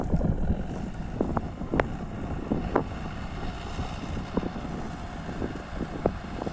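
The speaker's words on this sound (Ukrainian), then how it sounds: "Трактор не підводить, робить все чітко" A tractor discing corn stalks in a field gives a steady low engine rumble with wind buffeting, dotted with occasional knocks and clanks, no voices.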